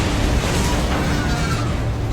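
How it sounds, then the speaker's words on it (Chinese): A loud, sustained bomb explosion in an elevator in a film, with dense low-end roar that fills the whole stretch, with no pause or quieter moment. "洛丽最后在电梯里装上一颗定时炸弹，然后跳出电梯间，眼看就要爆炸了。"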